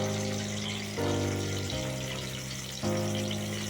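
Prawns deep frying in hot oil for prawns 65, a steady loud sizzle and bubbling with a few abrupt shifts in tone as pieces go in, no voices.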